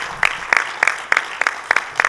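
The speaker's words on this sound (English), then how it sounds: "give a round of applause for Gene and Dana and everybody else" A small conference audience claps at a Florida medical cannabis legislative update, with about eight distinct sharp claps spaced fairly evenly, near and moderately loud.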